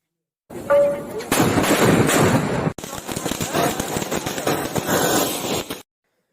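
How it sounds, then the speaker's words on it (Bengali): Firecrackers and fireworks burst at a home Kali puja celebration, a loud rapid string of crackling bangs with a sharp crack partway through, while people talk in the background. "দারুণ লাগছে বিভিন্ন ধরনের রং বেরঙের আতশবাজি গুলোকে।"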